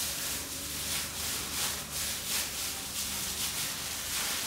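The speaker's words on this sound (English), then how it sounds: "now you're just gonna rub this mixture into the meat." A seasoning mixture is rubbed by hand into raw pork belly, giving a soft, continuous rhythmic rustling and squishing close up with gentle repeated strokes, no voices.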